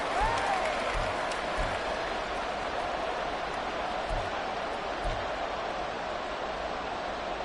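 A large crowd in Arrowhead Stadium roars at a football video game, a dense, sustained wash of cheering noise throughout with a few low thumps underneath.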